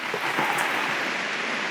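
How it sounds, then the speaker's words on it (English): Rain comes down on the awning of a camper at a provincial park campsite, a close, steady patter of dense hissing drops with no talk over it. "You can probably hear it's the rain coming down on the awning."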